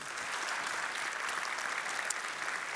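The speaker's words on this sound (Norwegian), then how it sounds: "Ok, stor applaus til Jon og Jens, mine damer og herrer!" A conference audience in a plenary hall in Norway applauds two people called onstage. The clapping is dense and steady, a continuous even roar of many hands with no voices over it.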